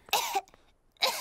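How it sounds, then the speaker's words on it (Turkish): Two separate coughs from a cartoon pig, each a harsh burst, split by a short quiet gap. "Düşündüğüm gibi Pedro'nun öksürüğü bulaşıcıymış"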